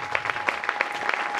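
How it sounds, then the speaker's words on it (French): Audience applause for a pastor at a church gathering, a short burst of scattered claps in a room. "J'aimerais que vous puissiez l'applaudir déjà"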